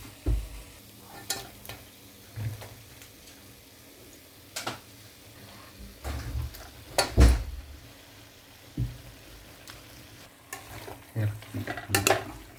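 Chicken curry with curry leaves frying in a pan, with a soft continuous sizzle broken by repeated scraping stirs of a spoon against the metal, some sharp and loud, at an irregular pace.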